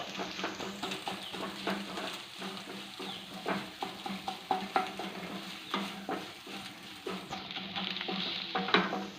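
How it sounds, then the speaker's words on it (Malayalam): Upma ingredients with turmeric and vegetables being stirred in a pan, with rhythmic close scraping and knocking strokes over a faint sizzle. "ഇതെല്ലാം കൂടെ ഇളക്കുക"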